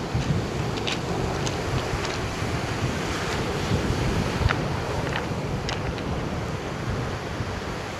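Blustery wind and breaking surf on a beach where kitesurfers are riding, steady broadband roar with microphone wind buffeting throughout and no voices.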